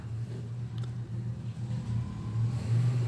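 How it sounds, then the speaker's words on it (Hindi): Road traffic rumbles steadily outside a roadside studio room, a low drone of passing vehicles with engines swelling slightly toward the end, moderately loud with no talk. "जो मेरा यह स्टूडियो रूम है ये थोड़ा से सड़क के किनारे है, तो गाड़ियों की आवाज़ आ रही होगी"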